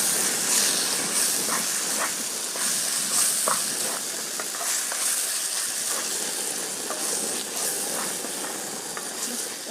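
Masala of onion, tomato, ginger-garlic paste, chilli powder and coriander powder sautés in a pan for Hyderabadi chicken, a close, continuous sizzle with scattered pops and stirring scrapes.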